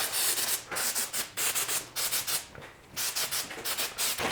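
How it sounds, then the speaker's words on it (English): Rags wiping a degreased metal vise during a restoration, giving a loud, close run of rhythmic rubbing strokes with brief pauses between them. "I'm going to take some of these rags and start to clean it off"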